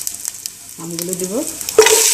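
Raw green mango pieces hit hot oil already seasoned with whole mustard seeds, black cumin and bay leaf for a tangy mango curry. A brief tonal squeak comes first, then a sudden loud, hissing sizzle near the end.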